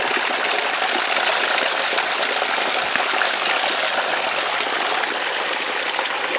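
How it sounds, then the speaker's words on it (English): A very tiny little waterfall at Warwoman Dell in Clayton, Georgia, splashing and rushing continuously, close and loud, with no voices. "very tiny little waterfall"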